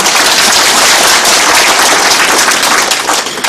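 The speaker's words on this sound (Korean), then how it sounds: "우리 성명준 의장님께 한번 환영의 박수 한번 크게 보내주시기 바랍니다." Loud, dense applause fills a ceremony hall as the audience welcomes the council chairman at a Jecheon International Music & Film Festival evaluation report meeting, sustained and steady without a break.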